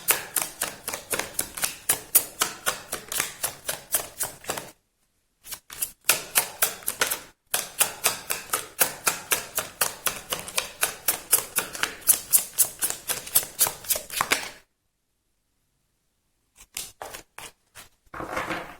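Tarot cards being shuffled produce long runs of rapid, crisp riffling clicks close up, broken by a few short pauses and resuming in bursts.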